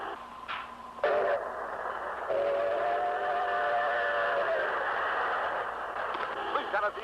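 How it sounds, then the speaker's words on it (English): Trains running along the Hudson River toward Grand Central Station, a steady rolling rumble with a long sustained whistle blast after a couple of short tones, moderately close, with a voice speaking faintly underneath. "day and night great trains rush on the Hudson River"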